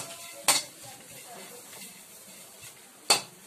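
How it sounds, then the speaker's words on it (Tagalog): Dried dilis fish and chili being stirred in a pan, with two sharp metallic scrapes of a utensil against the pan separated by a quiet stretch of low background noise. "Haluin lang natin mabuti para kumalat ang lasa ng sili."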